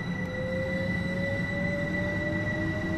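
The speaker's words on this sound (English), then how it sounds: "There goes the Electro Star." An Electrostar electric train passes in a train simulator game, giving a loud steady rumble with sustained whining motor tones that slowly rise in pitch, with no speech.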